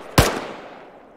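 A single sharp gunshot in the video game Arma 3, a close, loud crack followed by a long, fading echo tail, with no voices.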